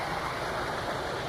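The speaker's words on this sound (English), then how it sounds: "I made it to the waterfall." Water from Etiwanda Falls, a waterfall on a Southern California hiking trail, rushes in a steady broadband roar that stays close and constant for the whole short stretch, with no voices.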